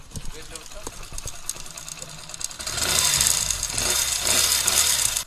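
A Hero HF Deluxe motorcycle engine runs with an abnormal ticking, knocking noise, idling and then revving louder and steadier, heard close by with no talk over it.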